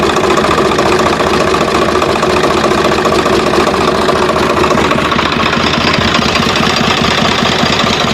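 A second-hand 2020 Swaraj 742 XT tractor engine revs loudly and continuously up close, with a steady knocking diesel rumble and dense mechanical vibration throughout.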